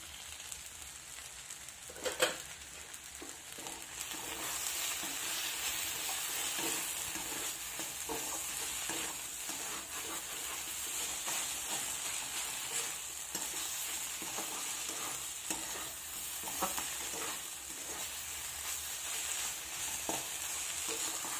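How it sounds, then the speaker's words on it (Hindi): Garlic sizzles and fries in a pan over cooked leafy greens (hidmicha saag), a steady broadband crackle with occasional stirring scrapes, close and continuous throughout. "अब इस पर डालेंगे लहसुन,"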